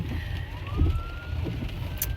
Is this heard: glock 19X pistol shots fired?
no